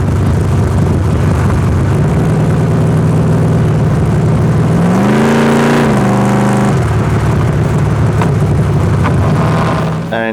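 A 1969 Camaro, swapped from a 454 to a quicker engine with a matched Aeromotive fuel system, roars loudly up close, its rising pitch climbing through a hard rev and acceleration midway before settling back to a steady drone.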